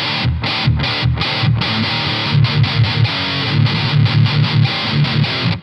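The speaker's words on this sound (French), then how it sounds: "Metal distorsion." Electric guitar played through the metal distortion setting of a Boss ME-80 multi-effects unit: a thick, saturated, loud tone with chugging palm-muted bursts and short rhythmic gaps, played alone.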